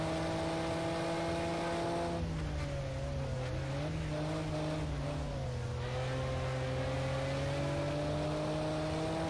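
Race car at Donington Park surging back onto the throttle after a brief lift, its engine note dipping then climbing steadily in a loud, close, sustained rev with strong harmonics throughout.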